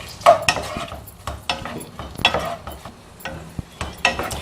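Large onions fry in melted butter in a pan, with a soft sizzle under sharp clinks and scrapes of a spoon stirring against the metal at an uneven pace, close by.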